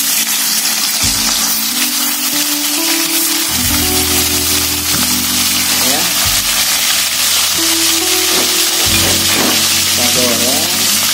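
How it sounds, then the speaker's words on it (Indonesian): Small marinated chicken pieces, seasoned with salt and pepper, sizzle loudly and steadily in a hot frying pan, with occasional stirring scrapes, close up and continuous while a person briefly speaks. "ayam yang udah kita potong-potong kecil tadi kita udah marinasi, kasih garam, kasih lada, terus kita agak goreng setengah matang atau ditumis"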